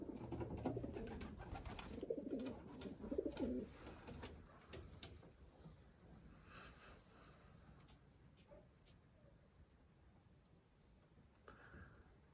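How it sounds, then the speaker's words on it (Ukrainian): Soft pigeon coos come in low, rounded bursts over a quiet background, with a few light taps and rustles; the cooing fades out partway through. "Ось такі голуби."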